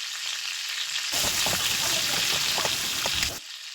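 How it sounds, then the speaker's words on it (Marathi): Black masala is stirred into onions frying in oil, giving a brief burst of close sizzling and spoon scraping that cuts off abruptly into a quieter background. "त्याच्यामध्ये हा जो आपला काळा मसाला आहे तो टाकायचा आणि पुन्हा व्यवस्थित ढवळून घ्यायचं."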